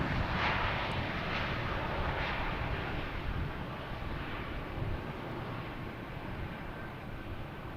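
A JetBlue jet departing Boston Logan for Cleveland, heard as a steady, moderately distant engine roar with some wind on the microphone, fading slightly toward the end.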